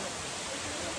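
Steady roar of the Shain Gong waterfall, a continuous broadband rush of falling water heard close and loud with no talk over it.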